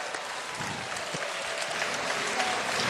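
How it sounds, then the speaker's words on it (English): Audience applause at BlizzCon 2008 during a StarCraft II exhibition match, a dense, steady roar of clapping from a large crowd that holds evenly and swells slightly toward the end. "Give a big round of applause to these guys."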